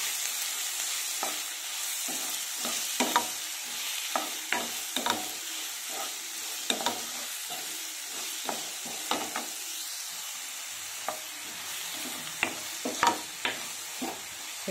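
Chopped onions and green chillies frying in hot oil after spluttering tempering, a low steady sizzle punctuated by frequent sharp taps and scrapes of a ladle stirring in the pan, close and alone.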